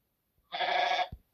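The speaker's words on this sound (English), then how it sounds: "Goat." A cartoon goat gives one short, wavering bleat, loud and close, followed by a soft thud.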